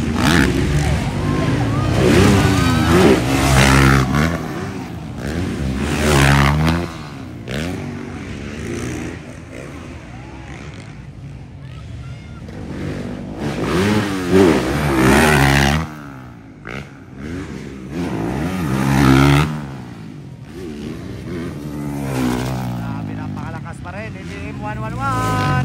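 A new Yamaha racing motorcycle engine revs in sweeping rises and falls at a race, loud and close, under a commentator talking throughout.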